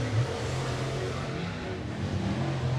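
604 late model race cars roar through hot laps during qualifying at 411 Motor Speedway, a steady low engine drone that carries from some distance across the whole stretch, with no voices over it.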